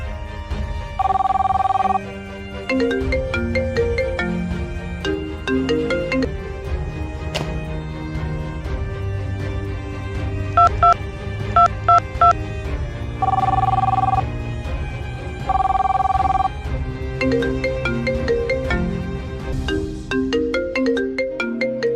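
A melodic electronic ringtone plays loudly and continuously, its tune repeating in looping phrases with occasional higher chime notes, without any talking.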